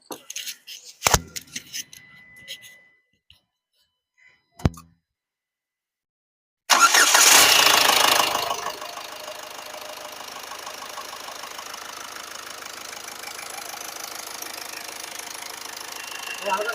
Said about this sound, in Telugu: బండి అయితే నేను స్టార్ట్ చేసి చూడండి చాలా స్మూత్గా ఉంది ఇంజను